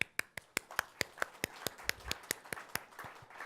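A summit audience claps in a faint, steady rhythm of about sixteen crisp, evenly spaced claps, with no voices over them.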